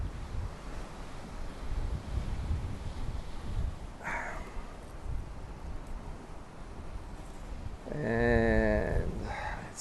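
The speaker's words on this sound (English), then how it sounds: "it is windy today" Gusty outdoor wind buffets the microphone as a steady low rumble, with a brief burst of other noise midway and a louder tonal gust near the end, no speech.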